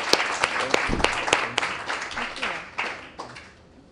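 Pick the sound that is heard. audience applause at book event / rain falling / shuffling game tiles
audience applause at book event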